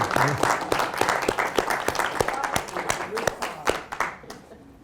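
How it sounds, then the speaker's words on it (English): An audience applauds a young man's parents at a celebration, a dense burst of many hands clapping at once with sharp individual claps standing out, a voice speaking briefly over it before it thins and fades. "I want to give your parents some applause"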